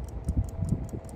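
A Westclox Baby Ben Classic alarm clock ticking close by with a broken, fast-moving second hand, giving rapid, even ticks at a steady rhythm, quiet and alone.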